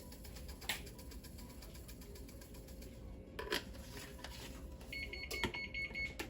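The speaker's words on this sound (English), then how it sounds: "There's my oven beeping." A few short electronic beeps from an oven signalling it has preheated to 400 sound near the end over a quiet kitchen background, with no talking.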